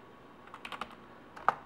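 Keys tap on a computer keyboard while a command is entered, a short burst of quick clicks followed by a pause and one firmer keystroke, close and quiet.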